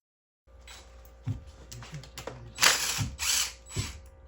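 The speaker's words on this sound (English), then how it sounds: "So we're just gonna take all these Torx bits out and set them to the side." A hand ratchet loosens Torx bolts from a car's valve cover, close up, giving several bursts of quick clicking pawl ratcheting mixed with metallic taps and handling noise.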